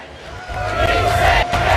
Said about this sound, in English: This crowd is now shouting,